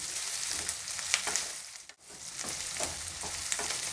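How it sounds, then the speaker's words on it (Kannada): Onions frying in a pan, a dense continuous sizzle close by with frequent light clicks and scrapes of stirring, briefly dipping before resuming, with no voices. "ಈರುಳ್ಳಿ ಸ್ವಲ್ಪ ಬಾಡಬೇಕು, ತುಂಬ ಮೆತ್ತಗೂ ಆಗಬಾರ್ದು, ಸ್ವಲ್ಪ ಕ್ರಂಚಿಯಾಗೂ ಇರಬೇಕು, ಸ್ವಲ್ಪ ಫ್ರೈ ಆಗಲೂಬೇಕು ಚೆನ್ನಾಗಿ"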